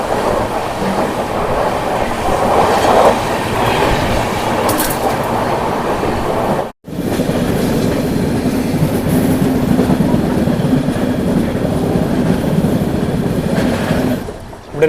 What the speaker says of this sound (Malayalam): അങ്ങനെ നമ്മുടെ ട്രെയിനിൻ്റെ സ്പീഡ് കൂടി വരുന്നുണ്ട്.